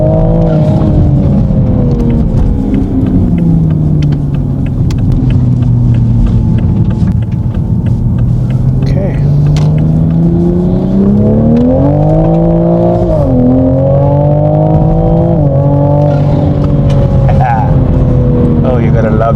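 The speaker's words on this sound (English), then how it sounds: "you gotta love those intake sounds" A Toyota Supra accelerates, its engine intake note swelling and falling in pitch as the revs climb and ease off, loud and close, with people talking over it.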